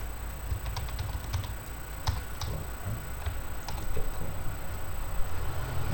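Someone types on a computer keyboard, with soft scattered key clicks in short bursts over a steady background hiss and low hum, faint and close, with no talking.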